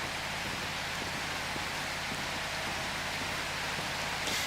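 Steady rainfall in the video game Prologue: Go Wayback!, a dense, even hiss of drops hitting surfaces that continues unbroken throughout, with a faint low hum beneath.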